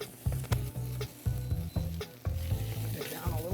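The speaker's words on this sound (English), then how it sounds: "you can hear that starting to sizzle already" Tomato paste sizzles steadily in a pan with quick bursts of stirring and scraping. Close and fairly quiet, no talking.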